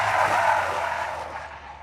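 Tires of a Dacia Sandero Stepway GLP 100 CV screeching under hard braking in a curve, a loud, close squeal that holds and then tapers off over about two seconds.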